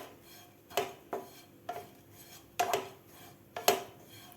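Grated dried coconut dry-roasting in a pan, heard as five or six sharp scraping strokes of a spatula against the pan at an irregular pace over a quiet background, with no one speaking.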